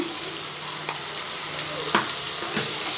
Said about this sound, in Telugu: ఇదైతే మొత్తం ఒకసారి కలిపేసుకోండి